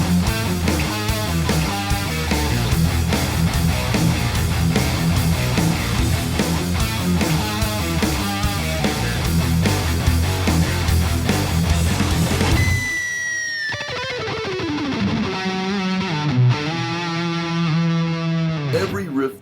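Loud distorted electric guitar plays a dense, driving metal riff, then shifts partway through into a sparser, sustained section with sliding notes.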